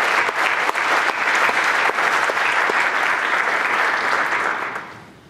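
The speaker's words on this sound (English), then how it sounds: "Please join me in thanking them with a round of applause." An audience at a high school National Honor Society induction ceremony applauds loudly and steadily, the clapping filling the room before tapering off at the end.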